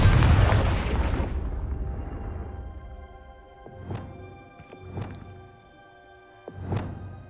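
Confringo fire spell cast in the video game Hogwarts Legacy, a loud booming blast at the start that rolls away, then three sharper bursts with ringing tails, moderately close.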